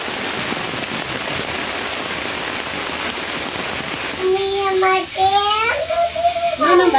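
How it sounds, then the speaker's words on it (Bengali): Dense, steady hiss of heavy rain in a thunderstorm pours throughout, with a voice speaking over it near the end. "বাইরে এখন প্রচন্ড ঝড় এবং বৃষ্টি হচ্ছে, তার সঙ্গে জোরে জোরে বজ্রপাত হচ্ছে।"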